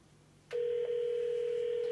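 A telephone dial tone switches on after half a second of quiet and holds steady, loud and unbroken, as a business number is about to be called.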